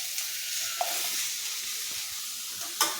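Tomatoes, potatoes and onions sauté in a pan with a constant bright hiss, broken by a couple of faint utensil taps and one louder scrape near the end, close and with no voices.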